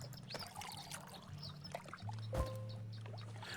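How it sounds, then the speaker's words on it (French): A water bottle being filled at a water source in the video game Home Behind: a soft pouring trickle heard alongside game music tones, with a dull thump partway through. "je vais profiter pour remplir ma bouteille d'eau"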